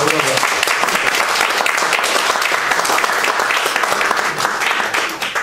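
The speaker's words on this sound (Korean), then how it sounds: "여러분, 박창근 교수님 소개할 때 큰 박수를 좀 맞아주시기 바랍니다." A lecture-hall audience gives loud, sustained applause for a visiting university professor being introduced at a talk, dense clapping filling the whole stretch with faint voices beneath.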